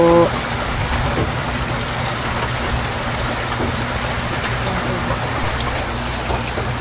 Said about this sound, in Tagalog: ang lakas ng ulan po dyan guys